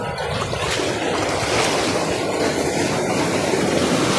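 Strong ocean surf pounds steadily along a Cavite shore, a loud, continuous roar of breaking waves with wind buffeting the microphone close by and no voices.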